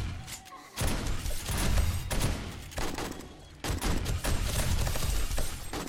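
Shotgun traps blast during a horde night in the 7 Days to Die survival game, with repeated loud booming bursts and heavy thuds merging into a continuous barrage over several seconds.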